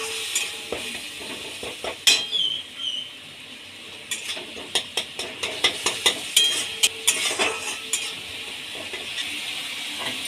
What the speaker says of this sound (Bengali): এবার ওতে হাফ চামচ লঙ্কার গুঁড়ো, 1 চামচ হলুদ গুঁড়ো, সামান্য একটু জল দিয়ে কষিয়ে নেব।